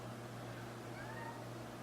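A cat meows softly indoors, one drawn-out faint meow over a low steady background hum.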